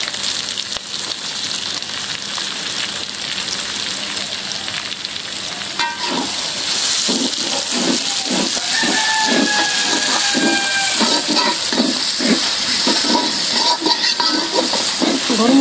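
Sliced onions frying in hot oil for a prawn biryani, a loud, close, continuous sizzle that grows busier and crackles as they are stirred, with no talking over it.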